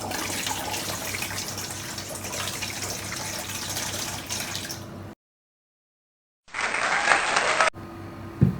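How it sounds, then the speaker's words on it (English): Water glugging and gushing out of an upside-down bottle as air bubbles in, a steady rush for about five seconds, a sudden silence, then another burst of pouring, close and fairly loud. "when you just let go, the water comes up, air comes in"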